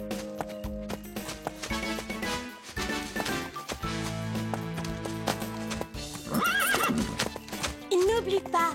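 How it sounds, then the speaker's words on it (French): A cartoon horse whinnies loudly and its hooves clip-clop in a quick rhythm over bright background music, with character voices speaking at points. "Ton cheval est bien scellé, Mimi?"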